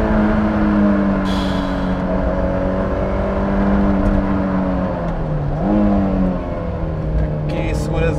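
Honda S2000 engine at high revs, a loud, sustained, rising and falling howl as the car is driven hard through corners, with brief shifts in pitch.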